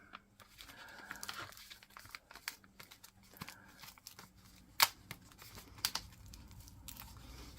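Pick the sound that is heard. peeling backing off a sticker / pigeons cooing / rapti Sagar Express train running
peeling backing off a sticker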